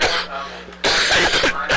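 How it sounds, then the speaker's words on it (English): A man coughs and clears his throat twice in quick succession, close and fairly loud, during a high school football broadcast. "I apologize for my cough."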